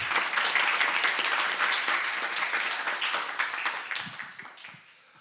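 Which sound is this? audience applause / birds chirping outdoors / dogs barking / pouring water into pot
audience applause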